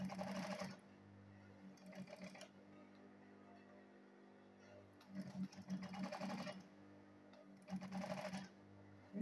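A leather-rated sewing machine stitches fabric for a handbag, running in several bursts of rapid mechanical chatter separated by quieter stretches of low motor hum, close and steady.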